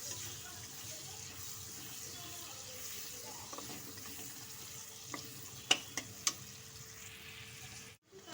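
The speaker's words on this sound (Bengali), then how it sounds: "পেঁয়াজটাও একটু বেশ কিছুক্ষণ নেড়ে চেড়ে নেবো তেলের সাথে।" Chopped onion stirred in hot oil for cooking water spinach gives off a faint, steady sizzle, broken by a few sharp clicks of a spoon against the pan.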